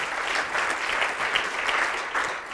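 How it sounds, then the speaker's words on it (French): An audience applauding themselves, dense close clapping in a continuous burst with small swells. "vous allez vous applaudir d'abord"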